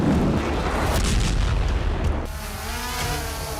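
Bombs dropped by a MiG-29 exploding along a front line: a dense, loud rumbling roar of blasts rolls on continuously, then eases into a lower, steadier rumble near the end.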